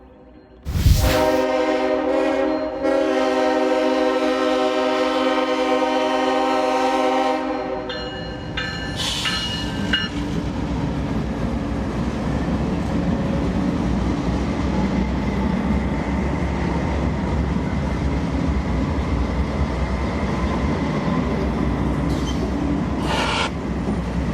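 A CSX freight train led by auto racks and trailed by a block of containers opens with a loud horn blast, then rumbles past at close range with steady wheel clatter and brief squeals.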